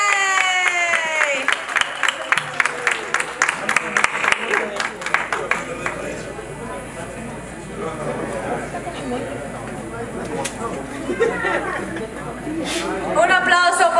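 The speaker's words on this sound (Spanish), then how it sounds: "Un aplauso, por favor." Scattered audience applause and cheers at a Latin awards ceremony as a restaurant representative comes forward, with a presenter's amplified voice and crowd chatter running over and between the claps.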